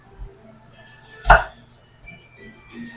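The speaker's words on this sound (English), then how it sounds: "Chopping the broccoli." Broccoli being chopped in a home kitchen while cooking birria tacos and guacamole salad: a single sharp knife strike lands near the middle, with faint background noise and no talk.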